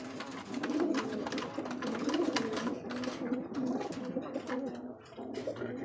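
Pigeons coo steadily in low, throaty, overlapping calls, fairly close, with faint background rustle and no speech.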